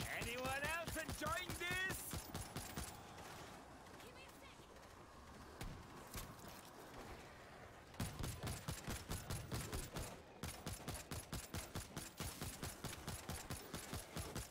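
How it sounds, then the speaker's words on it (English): A hip-fired sniper rifle in the zombie shooter World War Z, with rapid gunfire bursts, dense clusters of sharp shots and a steady run of repeated cracks later on, mixed with game noise and talking players. "How do you hip fire a sniper rifle?"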